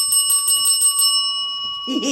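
A small bell, tapped on top, rings in a rapid metallic trill inside the historic Savannah Theatre, loud and close for about a second before fading, then a voice speaks briefly.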